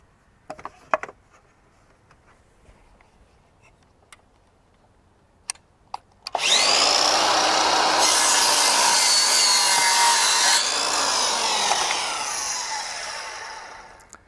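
An 18-volt battery-powered sliding compound miter saw makes an angled cut through timber. A few faint clicks come first, then the blade spins up suddenly into a loud, sustained whine and rasp that eases slightly as the cut finishes.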